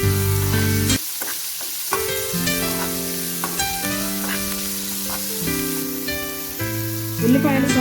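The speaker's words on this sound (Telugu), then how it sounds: "ఉల్లిపాయలు త్వరగా వేగడానికి కొంచెం సాల్ట్ వేస్తాం" Onions fry in a pan for home-made egg noodles, a steady sizzle running beneath loud background music, with a brief voice partway through.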